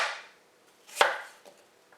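A knife chops Brussels sprouts and butternut squash for sheet-pan roasting, a sharp close chop followed by a few lighter cuts and sliding scrapes, with no talking.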